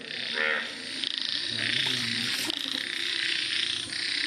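Frogs croaking in a dense, continuous chorus, with a brief burst of rapid croaks near the start and a faint voice in the mix.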